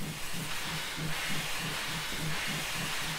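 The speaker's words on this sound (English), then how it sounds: "sound and smoke effect that comes out of the front of the steam engine" A LBSCR E2 Class steam locomotive in Train Simulator 2017 gives off a loud, continuous steam hiss, with a faint rhythmic chuffing pulse beneath it.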